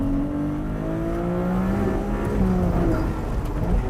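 A Ferrari 296 GTS convertible with a turbocharged engine accelerates in second gear, a steady rising hum and whir climbing in pitch over a few seconds, heard from close by with no talk.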